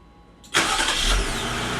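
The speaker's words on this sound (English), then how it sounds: "car starts up." A 2020 Jeep Willys engine cranks and catches after a brief quiet moment, then settles into a steady, loud idle close by, with no talking over it.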